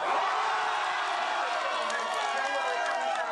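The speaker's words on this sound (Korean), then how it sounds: "박근혜 대통령 탄핵이 결정되자 박수와 함께 큰 환호성이 터져나왔습니다" A crowd of citizens cheers and applauds loudly after a presidential impeachment ruling, a dense, steady roar of voices and clapping filling the space, with shouts rising through it.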